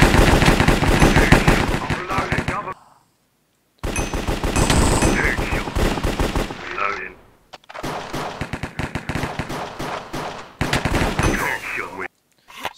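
Dense bursts of rapid automatic gunfire in the Cops and Crims video game, loud and close, cut into several segments separated by brief silences, with fast rattling volleys throughout.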